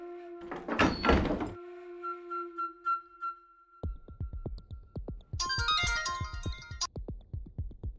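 A phone ringtone plays a sustained electronic melody, followed by a rapid series of pulsing clicks and a bright burst of jingling ring tones.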